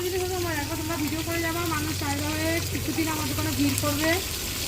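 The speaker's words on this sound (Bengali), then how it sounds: "একদম মাছ ভাজা চলছে" Fish fries in a shop's pan around midday, a steady broadband sizzle running the whole time beneath close, tonal voices and bustle.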